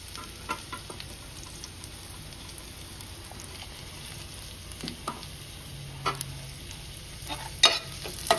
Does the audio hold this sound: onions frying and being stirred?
yes